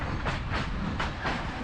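A train arrives at București Gara de Nord station after a long Balkan journey, with rhythmic clickety-clack of wheels over rail joints repeating roughly every half second under a steady rolling rumble, heard from inside the carriage.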